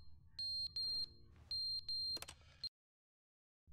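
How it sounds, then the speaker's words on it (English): Smoke alarm in The Stanley Parable chirping its low-battery warning: a few short, bright electronic beeps in quick pairs, close and fairly loud over a low room hum, ending in a sharper clatter before silence. "the fire alarm battery is beeping"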